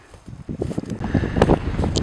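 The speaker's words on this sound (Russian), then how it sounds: "Ветер, конечно, дует" Wind buffets a microphone on a mountain descent in the Gorgany range, rising into gusty rumbling with some rustling and a few soft thumps, like footsteps on the ground.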